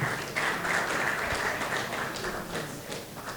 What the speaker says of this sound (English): Please, can we clap as we step down?